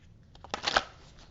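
Tarot cards shuffled for a Cancer reading, a brief close riffle of several flapping snaps building to a louder burst, then settling, with no voice.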